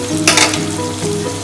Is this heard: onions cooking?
yes